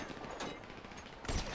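Gunfire in the video game GTA: a dense fusillade with two louder bursts of shots, at the start and near the end, over a continuous background of game noise.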